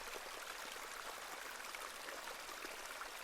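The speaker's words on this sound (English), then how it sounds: "This is a lovely little beck." A small beck from the video game The Excavation of Hob's Barrow flows steadily with a soft, continuous trickle and babble of water, close and gentle, with no voices.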